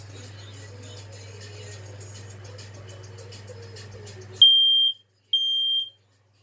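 A carbon monoxide alarm sounds during a walk test, giving two loud, steady high-pitched beeps after a stretch of low humming background noise with faint voices.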